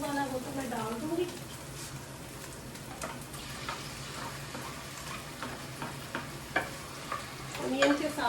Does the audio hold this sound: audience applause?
no